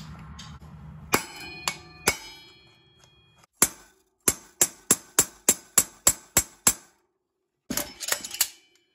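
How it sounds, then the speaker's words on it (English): Sharp metallic hammer blows strike a punch to drive out a Honda Hawk 250 front wheel bearing, a few scattered hits then a steady run of about eight evenly spaced clangs, close and loud. "the old fashioned way with a hammer and a punch"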